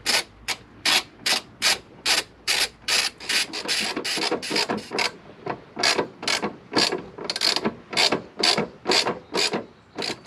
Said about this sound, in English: So just go ahead and loosen up those 10mm bolts